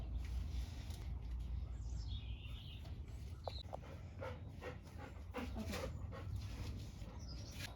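A seven-month-old dog pants steadily and lets out a few high, thin whimpers, close and soft at a horse stable. Birds chirp faintly in the background.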